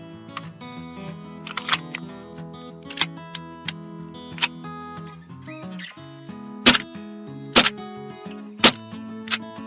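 Several sharp, snappy clicks pop out irregularly over backing music as a gas blowback airsoft pistol is test-fired a few times in cold weather after a magazine gas leak repair.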